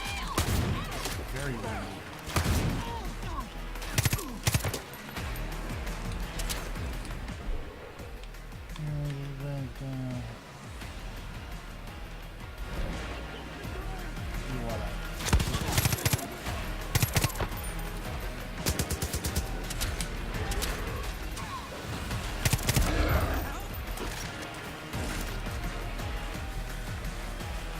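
Video game gunfire cracks out in scattered bursts and single shots at moderate volume across a long stretch, mixed with other game effects and a player talking at intervals.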